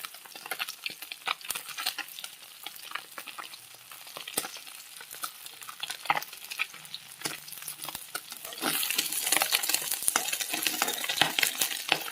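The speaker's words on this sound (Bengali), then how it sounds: "দেখো বন্ধুরা আমার মাছ ভাজা হয়ে গেল এবার" Falui fish fries in a pan with a busy, continuous crackle and sizzle, scattered with sharp utensil clicks, growing louder and denser over the last few seconds.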